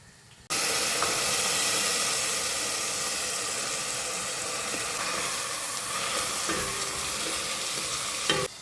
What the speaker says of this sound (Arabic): راح نزيد الرز ونخليه هو ثاني يتقلى شويه